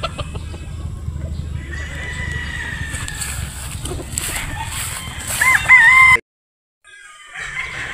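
A pure Boston Roundhead gamecock crows at a game farm in Batangas, a single clear crow near the end standing above a background of other birds and farm noise, followed by a brief silence.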